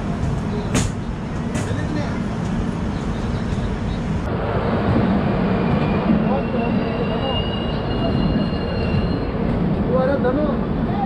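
A Hyderabad–Mumbai special passenger train rolls past on the rails near Kalburgi, a steady loud rumble of wheels and carriages heard from another moving train, with faint high squeals and some background voices.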